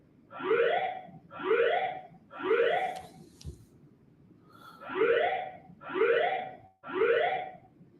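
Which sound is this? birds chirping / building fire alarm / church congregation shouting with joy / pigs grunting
building fire alarm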